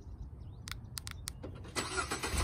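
A 2016 Ford Explorer XLT engine, started by remote start, cranks with a few short clicks and then catches, its low rumble settling into a steady idle nearby.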